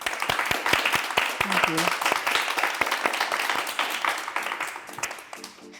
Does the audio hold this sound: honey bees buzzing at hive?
no